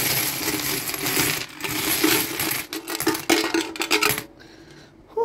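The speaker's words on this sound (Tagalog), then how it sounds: "So, ito, bubuhos ko na at bibilangin natin yung mga naipon nating coins." Coins from a coin bank pour out in a loud, dense metallic clatter and jingle that keeps going for about four seconds, then thins to a few scattered clinks.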